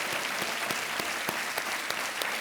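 Studio audience on a TV quiz show claps for a contestant who has won a big prize, a dense, even round of applause heard alone at moderate level.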